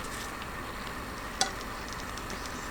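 Beaten egg poured over zucchini, with beef, sizzles in a frying pan as a steady, even hiss, broken once by a single sharp tick near the middle.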